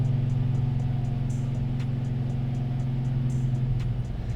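A Procharged 6.2L GMC Denali truck engine with a BTR cam runs steadily on a dyno, its low, heavy drone holding constant and loud throughout with no voices.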